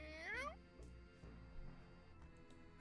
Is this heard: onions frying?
no